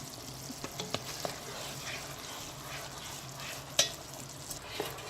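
Caramel for homemade popcorn stirred in a pot: a soft, steady bubbling hiss with scattered light scrapes and one sharper clink of the spoon against the pot partway through.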